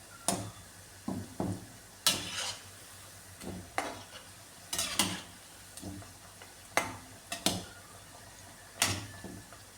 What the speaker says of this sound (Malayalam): എണ്ണ നന്നായിട്ട് ചൂടായതിനു ശേഷം ഇത് ഇട്ട് കൊടുക്കുമ്പം ഇതിൻ്റെ ഫ്ലെയിം മീഡിയം ഫ്ലെയിമിലേക്കാക്കി വേണം ഇട്ട് കൊടുക്കാൻ